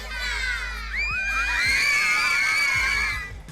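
High-pitched shrieking cheers and shouts from the Hazard Cheer Pups squad at a high school football playoff game at Daniel Field, rising into a sustained, loud chorus for a few seconds before fading.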